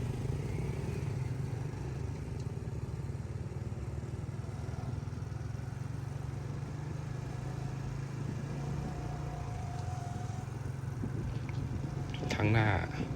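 A motorcycle ridden along a city road toward Kokkok Mega Mart, its engine a steady low drone with road rumble throughout, a brief louder burst near the end.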